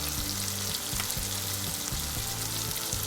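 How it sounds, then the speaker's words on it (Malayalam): Vegetable curry masala with chilli and coriander powder fries in oil in a pan, a loud, steady sizzle punctuated by rhythmic scraping strokes of a spoon, close up and uninterrupted by voices. "ഇതും കൂടിയിട്ട് ഇതിൽ നന്നായിട്ട് ഇളക്കി കൊടുക്കുക"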